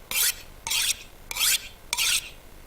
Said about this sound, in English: if we ruin it whilst we're sharpening, we're going to end up ruining the axe